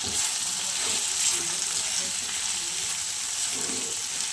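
Paneer cubes go into a thick spiced gravy and sauté in a pan, giving a constant, loud, hissing sizzle with faint stirring underneath, close-up and unbroken throughout.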